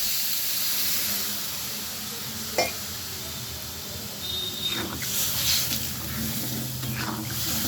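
Water goes into a hot pan with raw banana and brings up a soft, steady hiss and steam. A sharp clink and some brief bubbling bursts rise above it, with no voices.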